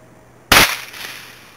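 A single sharp crack from a .22 trapper air rifle fired at a target, close and loud, followed by a brief fading tail and quiet afterward.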